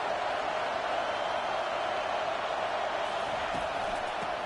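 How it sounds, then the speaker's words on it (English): Football stadium crowd roaring behind the defense on third down in an Alabama versus Florida State game, a steady loud wash of cheering that holds and swells throughout without letup. "Decibels rising as the crowd gets behind this defense on third down."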